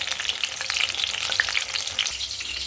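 Sliced eggplant fries in a pan, giving a dense, lively sizzle with bright spitting pops scattered throughout and no talk, fairly close and steady.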